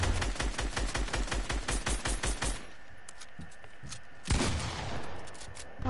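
Rapid automatic gunfire from a video game fires in a steady burst for a couple of seconds, followed by scattered single shots and another loud blast, all close and loud.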